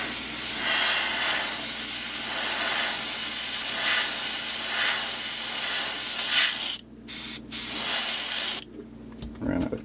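An airbrush gun sprays paint onto a fishing lure in a scale-pattern technique, producing a steady, close hiss for about six seconds that cuts off in short bursts before stopping.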